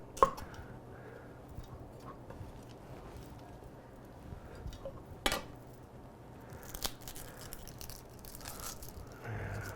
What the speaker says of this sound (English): dice this a little bit.